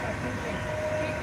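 Train pulling out of Belgrade's central railway station, a steady low rumble and rolling hum with a faint sustained tonal whine, heard from aboard the carriage with a voice speaking over it.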